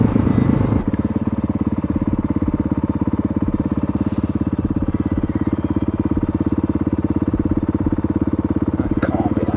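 Trail motorcycle engine running steadily while riding on a winter trail ride, a loud, continuous throbbing drone close to the microphone for the whole stretch, with faint rattles over it.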